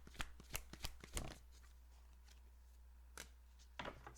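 A deck of cards is shuffled close by in quiet bursts, a quick flurry of riffling clicks at the start, then a few softer flicks after a pause, over a low steady hum.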